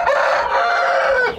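Rooster crowing loudly and close at a Hmong American chicken farm, one sustained cock-a-doodle-doo over the whole stretch with hens clucking faintly beneath it.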